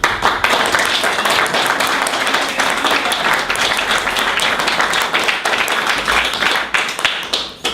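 An audience applauds at a Boothbay town selectmen's meeting, a dense, steady wash of many hands clapping that carries on without a break for several seconds, with no talking over it.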